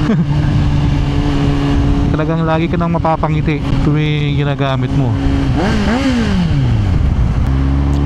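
A Kawasaki Z900 inline-four motorcycle rides and revs with a loud, smooth engine whose pitch climbs and falls through the gears, while someone talks over it close to the microphone.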